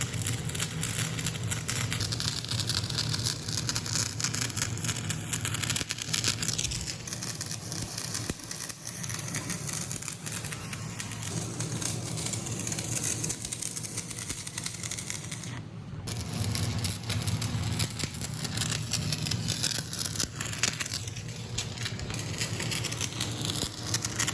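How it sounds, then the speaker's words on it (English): A small stick welder fuses a steel plate onto a brake drum for a homemade bench grinder stand, giving a steady, loud crackling buzz that runs almost unbroken, with one brief break partway through. "he's just gonna weld that plate to this brake drum"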